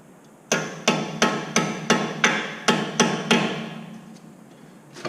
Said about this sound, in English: I'll take my little mallet right here. I'll tap the pin in, trying not to hit the caliper